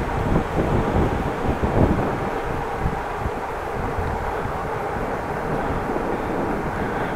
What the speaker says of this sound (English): A little bit of headwind, so that's going to slow me down.